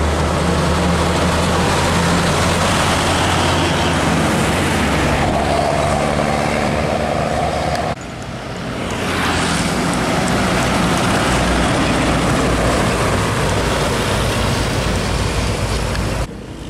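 Old trucks passing on a road as a Ranger truck is overtaken by a truck carrying motorcycles, a loud continuous rumble of engines and road noise swelling and fading, with a brief dip midway.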